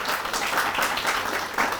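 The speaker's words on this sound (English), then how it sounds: "Please, a big round of applause" Audience applause at a talk show welcoming a speaker, a loud continuous wash of clapping hands from a close crowd, unbroken for under two seconds.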